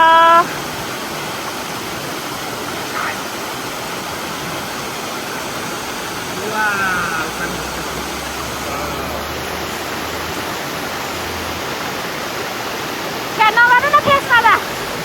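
A river rushes with a steady, full roar where a child plays in the water during a Saune Sankranti outing, a constant wash of sound throughout, with brief voices near the start and end.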